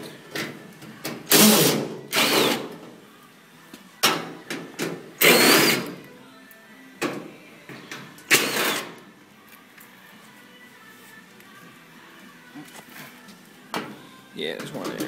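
A quarter-inch drive power drill whirs in several short bursts while unbolting screws on a Whirlpool Cabrio dryer, each burst a second or so long with quieter pauses between, close by.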